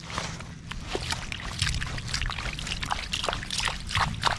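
Rainwater trickles and dribbles out of a flooded sweet potato field after long rain, a close, continuous gurgling flow with small splashy bursts.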